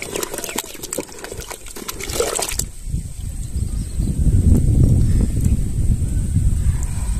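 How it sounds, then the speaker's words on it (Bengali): Fermented ash gourd pieces washed in fresh water, splashing and sloshing that turns into a steady, close gush of running water in the second half. "এবার ফ্রেশ জলে দিয়ে নিয়ে ভালো করে ধুয়ে নেব।"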